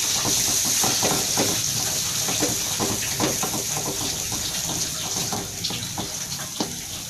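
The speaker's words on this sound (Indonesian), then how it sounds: "Nah kalau minyak sudah panas, kita tumis bumbunya yang tadi sudah di blender ya." Blended spice paste for bandeng pesmol sizzles in hot oil in a pan, a loud, steady crackling hiss heard up close with a dense spatter of pops and no talking.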